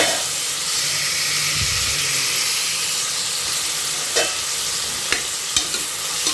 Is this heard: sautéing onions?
yes